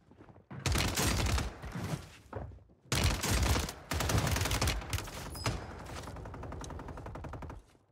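Heavy gunfire in the Warzone 3 video game: loud, dense bursts of rapid automatic shots with brief pauses between volleys, then continuous firing that trails off near the end.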